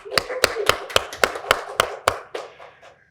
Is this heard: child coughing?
no